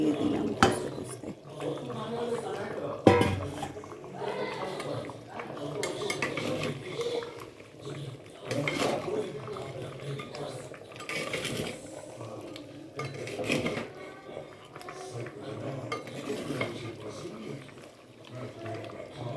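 Chicken pieces and reserved fat are stir-fried in a pot, with a metal spatula scraping and clanking in uneven strokes over a soft sizzle while a person talks.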